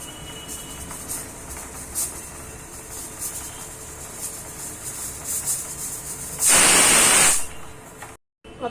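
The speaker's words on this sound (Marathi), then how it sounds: "आता आपण हे कुकरला लावलंय, याच्या आपल्याला 2 शिट्ट्या काढून घ्यायच्यात" A pressure cooker cooking tamarind-jaggery chutney lets out one loud, steady hiss of steam lasting about a second, breaking a quiet, static-like background. Nobody talks.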